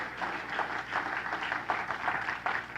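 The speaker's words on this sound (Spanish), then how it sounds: "Dale ese aplauso fuerte al Señor." Fairly quiet applause from a church congregation during a sermon, continuous clapping with a few louder swells, sounding somewhat distant.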